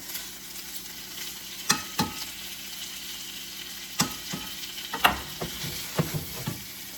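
Mushrooms and onions fry in butter in a pan, a steady soft sizzle broken by a few sharp clicks and clatters of stirring, close and moderately loud, with no talking.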